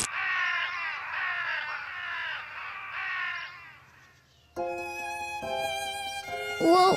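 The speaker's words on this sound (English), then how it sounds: "Even their songs are weird." Cartoon birds sing strange songs: a run of harsh, cawing, crow-like calls, then after a short pause a cluster of bright, whistling, tonal chirps with a shrill rising note near the end.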